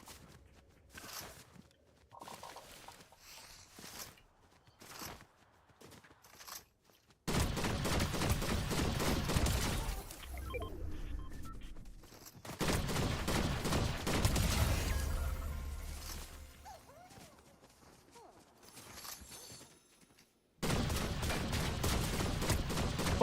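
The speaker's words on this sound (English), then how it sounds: "He's getting shot at." Gunfire bursts in a Fortnite match, loud sustained volleys alternating with quieter stretches of scattered shots and footsteps, the dense firing returning several times across the stretch.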